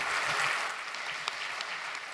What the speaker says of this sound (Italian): il primo applauso è per voi